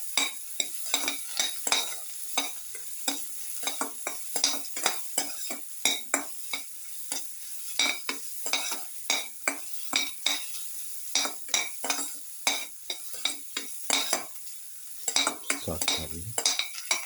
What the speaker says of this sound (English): Saute heavily.